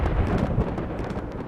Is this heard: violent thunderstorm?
yes